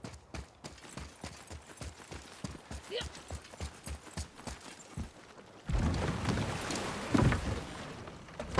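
Oars rowing a boat in the video game God of War, rhythmic wooden knocks and water strokes repeating about twice a second, then a louder wash of water and wind, with voices talking.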